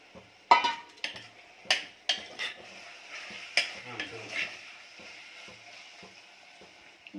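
Cashews tossed into a pan of fried tomato and stirred, giving a series of sharp spoon-against-pan scrapes and knocks in an irregular rhythm over a soft sizzle that fades toward the end.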